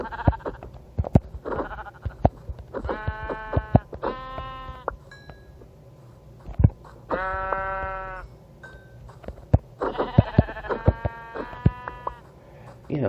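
Several sheep bleat in short bursts in Minecraft Bedrock Edition, with clicks and light game sounds between calls; no talking.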